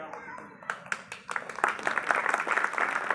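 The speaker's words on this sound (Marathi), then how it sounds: "टाळ्या वाजवून त्यांचं स्वागत करूया" Applause welcomes a guest at a community reunion gathering of Satara residents; scattered claps start and quickly build into steady clapping from a crowd, with voices talking underneath.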